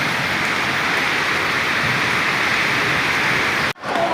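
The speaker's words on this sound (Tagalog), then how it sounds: "Ulan, ang lakas." Heavy rain pouring down outdoors in the Philippines, a steady loud hiss with no break until a brief sudden cut near the end.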